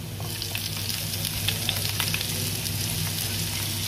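Garlic frying to golden brown in hot oil for squid curry masala, a dense, continuous close crackling sizzle with no talking over it.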